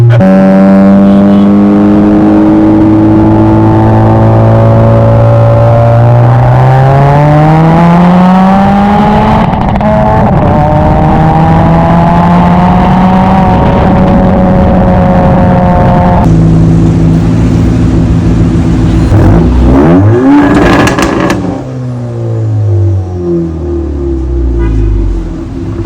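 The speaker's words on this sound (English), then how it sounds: "the exhaust note is fantastic" A Honda Civic FL1's Stage 2 tuned exhaust revs loudly up and down close by, rising and falling through the gears with a rasping, growling tone and no talking.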